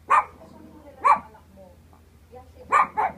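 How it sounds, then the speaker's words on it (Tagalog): A small pet dog barks in short, sharp yaps spaced apart at moderate distance, four barks in all with the last two close together, over a quiet indoor background. "Maingay ang aso?"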